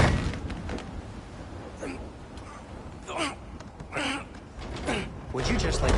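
Creaking strain of a frozen door being forced open in God of War Ragnarok, with grunts and effortful vocal sounds over a dense game soundscape, intermittent creaks building across several seconds.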